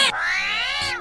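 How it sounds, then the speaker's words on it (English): A house cat gives one drawn-out, rising-and-falling meow, loud and close, lasting about a second with nothing else around it. "that's a cat"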